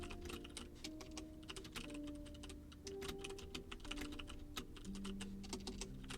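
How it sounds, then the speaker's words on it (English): Rapid, continuous typing on a computer keyboard, close up: dense clicking keystrokes, including repeated corrections, over steady background music tones, with no talking. "That's a lot of typing."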